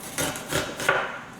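A knife chops onions for French onion soup on a cutting board in a home kitchen, with three soft, closely spaced cutting strokes over a quiet background.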